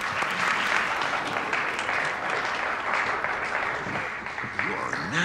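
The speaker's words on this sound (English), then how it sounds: "Let's hear a round of applause for Detective Murtaugh." A crowd gives a guest lecturer a steady round of applause at the end of a class session, the dense clapping filling the room for several seconds before tapering slightly.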